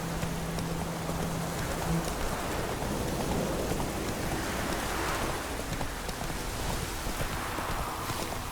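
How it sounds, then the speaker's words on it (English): Steady rain pours down in The Witcher 3 video game, a continuous broadband hiss with scattered patters, even and unbroken throughout, with no voices. "Let it rain."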